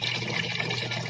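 Water sloshes and trickles as glutinous rice is rinsed in a pot, a steady close wet swishing with no talking over it.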